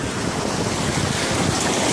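Steady roar of sea surf on a Turkish beach, broadband and continuous with wind buffeting the microphone, close and loud throughout.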